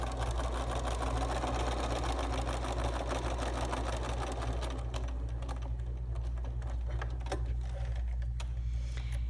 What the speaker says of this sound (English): I'm going to sew it down, and when I reach the original stitching line, I am going to stop.